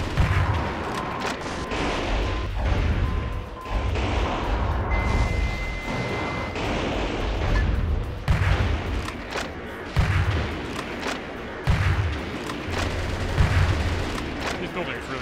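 Heavy weapons fire in the mech action game Metal Wolf Chaos, with a rocket launcher among them: repeated booming blasts and rattling gunfire across a chaotic city battle, loud and continuous with a voice occasionally heard.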